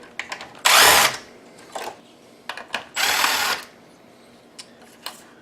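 A power screwdriver backing out the main board screws of an Optoma TH1060 DLP projector, two sustained whirring bursts of about a second each, close and loud, with small clicks and handling taps around them.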